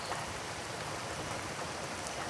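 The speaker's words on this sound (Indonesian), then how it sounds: "Hujan." Steady rain falls over open fields, a continuous even hiss of drops with no talking over it.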